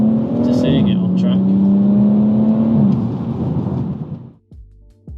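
A modified BMW M140i cruises a British B road, its engine holding a steady, droning note with a brief rise early on, then easing off and fading after about four seconds.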